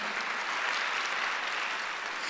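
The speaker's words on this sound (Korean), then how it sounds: "왜 박수 안 쳐요?" Steady applause from a church congregation at a Sunday worship service, a dense, continuous wash of many hands clapping at even loudness throughout, with no voices standing out.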